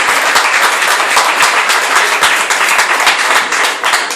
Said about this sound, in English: A round of applause for Simon Wells.